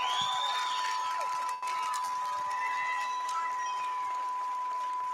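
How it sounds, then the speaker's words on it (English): Audience applauding and cheering for graduates at a graduation ceremony in a hall, a broad wash of clapping with scattered cheers behind a steady electronic tone. "Let's give our graduates a big round of applause"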